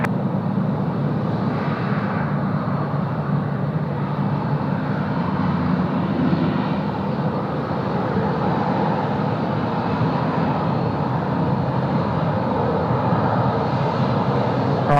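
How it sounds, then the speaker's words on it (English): An aircraft landing on runway 16 right at Sydney Airport makes a steady, loud engine roar that holds evenly for the whole stretch, with no talk over it. "Runway 16 right, clear to land."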